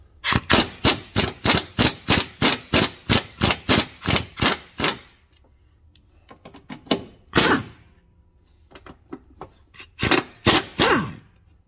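Strut nuts on a 2013 Dodge Avenger front driver's side being loosened with an impact wrench, loud rapid bursts of hammering, first a long steady run of evenly spaced blows, then shorter bursts after a pause.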